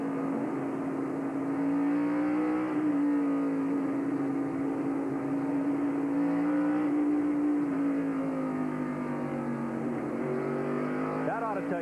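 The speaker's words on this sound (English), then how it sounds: "Let's listen to Raines for a lap." In-car sound of a race car at the 1997 Link-Belt Construction Equipment 225, its engine holding a loud, steady drone through a lap at part throttle, the pitch rising and dipping slightly through the corners.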